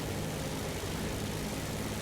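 Ju 87 D-5 dive bomber in War Thunder, its propeller engine roaring in an unbroken, even drone, loud and close, with a heavy low-end rumble and no voices.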